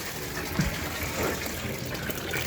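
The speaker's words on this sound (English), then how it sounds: "I'm just gonna keep yanking on it, and a bunch of coolant should fall out of here" Coolant gushes out of a pulled radiator hose on a Mustang being readied for engine removal, a steady close splashing pour with a brief thud partway through.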